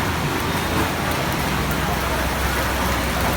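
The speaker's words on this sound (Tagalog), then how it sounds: "Ayan, ulan na ulan." Heavy rain pours down in a dense, unbroken hiss, steady and loud throughout.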